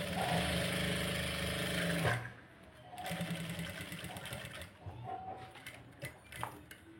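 A sewing machine stitching a princess-cut blouse, loud steady whirring for about two seconds, then stopping and restarting in shorter, softer runs with light clicks and handling noises.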